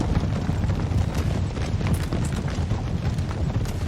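Cavalry charging into an artillery position in Napoleon Total War, a dense, continuous roar of massed hooves, clashing and battle rumble, loud and unbroken throughout with no clear voices.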